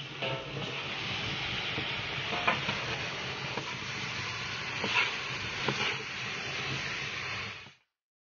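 Tomatoes stir-fried in a pan for a pork sauce over Shaanbei knife-cut noodles give a steady, close sizzle with soft scraping stirs. It runs continuously with no talk before cutting off near the end.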